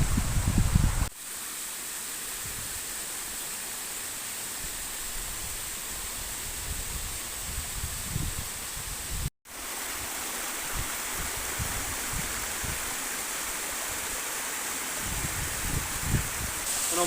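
Water from the Folly Dolly waterfall near Meltham pours steadily in a loud, continuous broadband rush, with a brief dropout partway through before the roar resumes unchanged.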